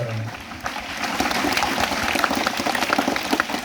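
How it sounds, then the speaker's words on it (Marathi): An audience at a lecture for Dr. Babasaheb Ambedkar's birth anniversary breaks into steady, dense applause that swells and holds throughout, with crowd murmur mixed in. "एकदा जोरदार टाळ्या वाजवा"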